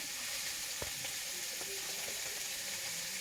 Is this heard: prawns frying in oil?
yes